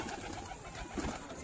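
Pigeons in a home loft at dusk, cooing and shuffling close by in a low, continuous murmur with a brief louder burst near the end.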